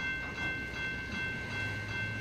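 A CN freight train rolls past on the railway, a steady close rumble of wagons with faint tonal whine above, continuous and loud for the whole stretch with no voices.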